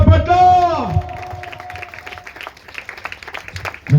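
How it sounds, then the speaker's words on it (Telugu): A church congregation at a meeting breaks into a burst of hand clapping right after a man's loud spoken call, the claps rattling on steadily for several seconds. "కొట్టు చప్పట్లు"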